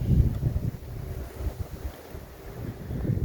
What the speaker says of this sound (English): It's a shame it's so breezy today